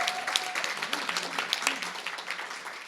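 Audience applause following an introduction at a local community meeting, a dense steady wash of many hands clapping that gradually tapers off, with faint voices murmuring beneath.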